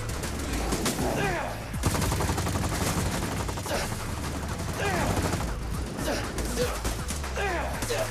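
Dense gunfire in the game Zenless Zone Zero, continuous volleys of rapid shots with crashes and character shouts mixed in throughout.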